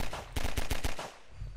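Rapid automatic gunfire in a video game, a quick burst of about six evenly spaced shots over a steady background hum, loud and close, with no voices.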